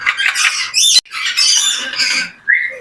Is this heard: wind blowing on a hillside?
no